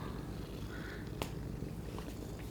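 A cat purrs softly and steadily up close in a quiet room, a low continuous rumble with a couple of faint clicks, and no one speaking.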